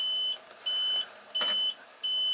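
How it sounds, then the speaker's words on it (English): Warning buzzer in an Adria 552PK Sport campervan, sounding when the fridge fan is switched on: a steady high electronic tone repeating in three even pulses of about half a second each, fairly quiet and alone. "It is connected to the light in the fridge, so it will give a warning buzzer when you've got it on."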